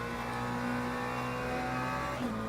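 Hypercar racing past in Le Mans Ultimate, a steady loud engine drone with a high whine holding throughout and a slight pitch shift near the end, no voices.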